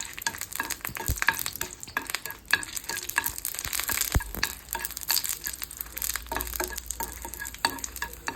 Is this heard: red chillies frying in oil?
yes